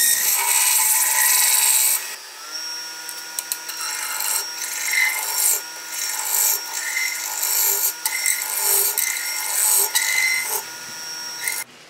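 A dogwood vase is hollowed out on a woodturning lathe: a steady, continuous rasping scrape of tool on wood over the lathe's motor hum, close and fairly loud, with slight shifts in pressure and no talking.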